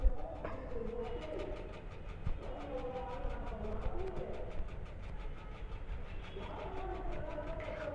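Indian train with AC coaches crossing at a junction in a train simulation game, a steady rolling rumble with rhythmic wheel clatter, whistle-like tones and bird chirps, fairly loud and continuous with no talk.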